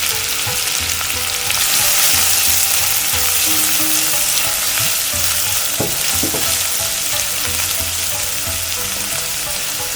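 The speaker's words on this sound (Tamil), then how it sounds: "எண்ணெய் சூடாகிட்டு இப்போது நான் 2 வெங்காயம் ஃபைனாக கட் பண்ணிட்டு நம்ம சேர்த்துறேன்." Two finely chopped onions frying in hot oil, the base for Karnataka poori sagu, make a loud continuous close sizzle with occasional spatula scrapes and stirs, no voices.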